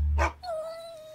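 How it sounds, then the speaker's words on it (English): A dog gives a single short bark followed by a drawn-out whimpering whine, close and clear, with no other sounds around it. "That's a dog."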